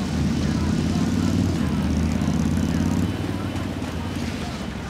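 A helicopter in the Narco Road DLC video game drones steadily with a loud, low rotor-and-engine hum that dips slightly near the end, with speech over it.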